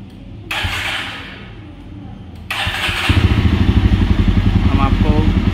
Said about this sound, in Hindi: और बाइक को स्टार्ट करते हैं।